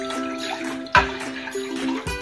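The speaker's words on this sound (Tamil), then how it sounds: "தண்ணி ஊற்றிக்கலாம்." Water poured into a saucepan of milk, a brief gushing splash and trickle near the start and again near the end, with quieter liquid sounds between.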